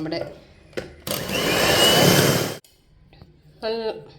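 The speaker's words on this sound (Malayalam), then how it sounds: "നമ്മൾ പൊടിച്ച ഷുഗറും എഗ്ഗും വനില എസൻസും കൂടെ ബീറ്റ് ചെയ്ത് നല്ല പതഞ്ഞ് വന്നിട്ടുണ്ട്" An electric hand beater whisks powdered sugar, egg and vanilla essence for a carrot cake batter, giving a loud, steady whirring burst of about a second and a half between short stretches of talk.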